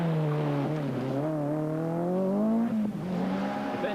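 A Ford RS200 Group B rally car races at the 1986 Manx Rally. Its engine holds a loud, sustained note that rises and falls, with a brief dip and recovery near the end like a gear change.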